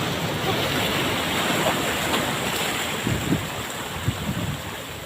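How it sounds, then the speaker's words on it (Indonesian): Rough surf from the South Sea crashes onto the beach in a continuous loud roar, with wind buffeting the microphone and a few sharper wave breaks toward the end. "inilah ganasnya ombak pantai Laut Selatan"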